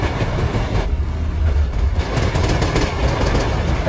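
Rajdhani Express passenger train rolling at speed on rails near Chennai, a loud steady rumble with rhythmic clickety-clack of wheels over track joints throughout.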